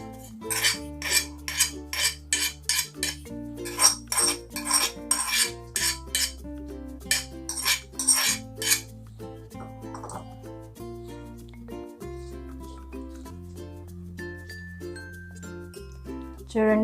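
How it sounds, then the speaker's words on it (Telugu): A spoon clinks against a pot or bowl as fried tempering is stirred into a tomato coriander chutney. Sharp metallic taps come in bursts over a steady background of music. "ఈ పోపును ఈ పచ్చడిలో వేసుకుంటున్నాను."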